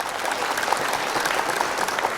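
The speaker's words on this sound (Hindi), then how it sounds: "एक बार तालियां बजाएं जोरदार भाई साहब के लिए" An audience breaks into brisk, continuous applause, a short dense burst of many hands clapping at moderate volume.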